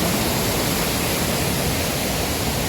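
Hua Chang waterfall in a forest hiking area pours in a steady, dense broadband rush, continuous and loud throughout with no voices over it.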